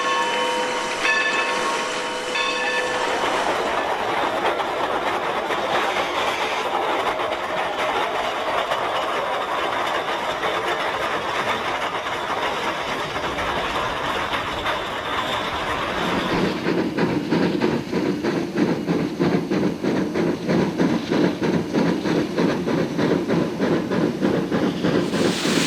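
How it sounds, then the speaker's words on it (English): Shay steam locomotive number 2 shoves boxcars along a siding, a steady rumbling roll of wheels and hissing steam that grows into a louder, rhythmic clatter partway through, with no talk. "Passengers and rail fans clamor about the number 2 as it moves the boxcars out of the way."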